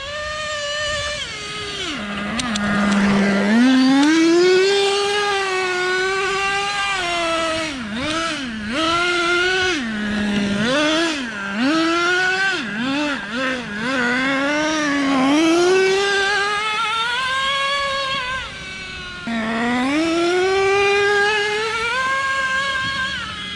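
A Traxxas Nitro Slash nitro RC truck engine revs up and down close by, a continuous buzzing whine with rising and falling pitch sweeps while the truck slides on wet tires.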